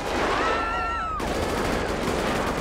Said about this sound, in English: I'm hearing shot fire, but can't find.